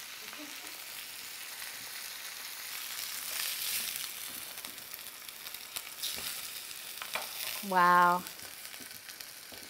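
Pepper-crusted ahi tuna sears in a hot pan with a steady, soft sizzle running throughout, while a voice briefly exclaims near the end.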